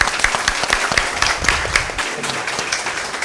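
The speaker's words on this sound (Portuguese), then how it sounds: "Aplausos." A small audience at a festival panel discussion claps, with distinct individual hand claps close by, loud at first and thinning toward the end.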